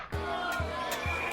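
Crowd of crew members shouting and yelling together in the Aliens: Dark Descent video game, a sustained loud clamor over a repeating low droning pulse.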